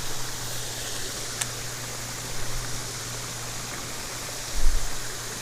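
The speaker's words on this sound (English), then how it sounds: "There's some pipes dumping water into the creek" Water gushes from pipes into a creek, a steady, full rushing and splashing that stays loud and even throughout, with a couple of slightly heavier surges.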